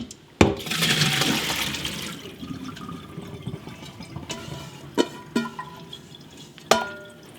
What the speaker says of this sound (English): Now we'll drain the potatoes again. We'll get rid of the ice.